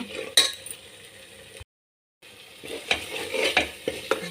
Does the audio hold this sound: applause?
no